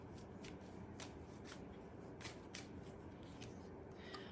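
Tarot cards shuffled by hand before one is drawn: soft, rapid riffling and flicks that repeat at a quick, uneven rhythm, close but quiet, with no voice.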